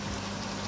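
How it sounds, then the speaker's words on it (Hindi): A little water added to masala frying in a karahi pan for chicken karahi, giving a brief, loud, dense hiss and bubbling sizzle that fills the whole moment without pause. "मसाले के साथ हम थोड़ा सा पानी ऐड करेंगे"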